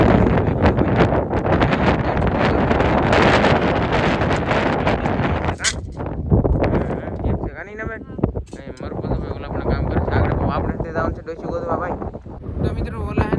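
Strong wind blows outdoors, buffeting the microphone in a loud, continuous roaring rush with gusty swells, while someone talks over it.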